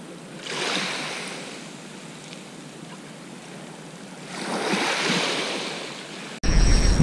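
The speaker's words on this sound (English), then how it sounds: "Hearing a lot of splashes in the water." Sea water at sunrise off Eastbourne: broad washing swells of surf and splashing rise and fade twice, with wind noise, before a sudden cut into a different, brighter sound at the end.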